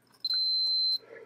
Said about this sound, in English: You'll hear beep when I hit it to here